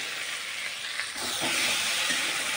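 Goat liver chorchori sautés in a pan with a steady, close hiss and sizzle that grows louder partway through, with faint stirring underneath and no one speaking.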